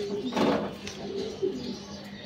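Soft pigeon cooing close by, a few low throaty coos over a quiet background.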